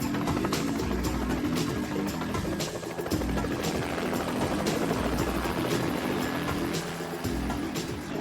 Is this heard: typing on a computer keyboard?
no